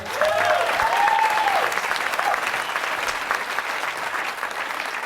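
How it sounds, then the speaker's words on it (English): Audience at a stage hypnosis show breaking into loud, sustained applause, a dense wash of clapping with a few brief cheers or whoops near the start, holding steady throughout. "give these folks a huge round of applause"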